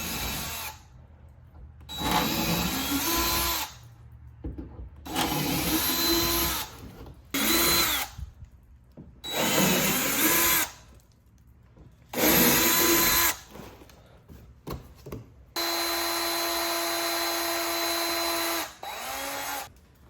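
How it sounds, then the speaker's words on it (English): A power drill bores holes through a 2024 Mustang GT hood in repeated bursts of a few seconds each, with short pauses between them and a longer steady run near the end, close and loud with no talking. "Grab our drill again"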